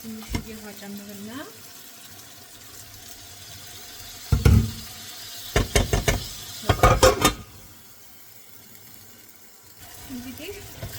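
Water poured into a cooking pot with crushed tomato, a few short bursts of splashing and bubbling, with a voice talking briefly at the start and end.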